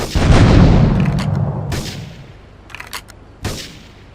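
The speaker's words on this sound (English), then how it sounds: "Investigate reports of gunfire and explosions." Gunfire and explosions in Grand Theft Auto III: a loud, rumbling explosive blast opens and fades over a second or two, followed by scattered sharp shots and a final crack.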